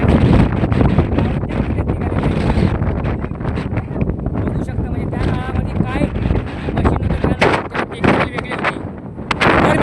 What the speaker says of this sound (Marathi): मित्रांनो बघू शकता एवढी हवा येते एवढी हवा येते